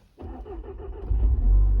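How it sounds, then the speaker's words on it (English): A VW MK7 Golf GTI R engine cranks briefly, catches and starts, then swells into a loud, steady, deep idle rumble close to the listener. "let's go ahead and just start the car"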